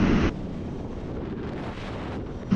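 Wind buffeting the rider while cruising on an Aprilia Tuono 660 naked motorcycle, a steady loud roar of rushing air over the microphone, with brief harsher gusts at the start and end.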